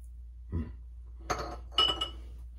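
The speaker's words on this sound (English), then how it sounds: "I'm gonna do the ice cube post-shave routine that I normally do." Ice cubes clink in a container during a post-shave routine, three separate close chinks spaced over a couple of seconds against a quiet background hum.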